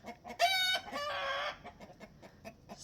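Chickens in a netted homestead coop, with a close, loud drawn-out crow or squawk followed by soft scattered clucks and small knocks.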